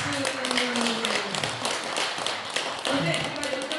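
Audience applause at a Won Buddhist Great Enlightenment Day dharma celebration, a steady patter of many hands clapping at close range, dense and continuous, with voices mixed in.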